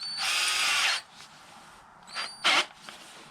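A Topshak TS-ED3 20V cordless drill whirs in a steady burst for nearly a second, then gives two shorter spurts, with quiet pauses between; no talking.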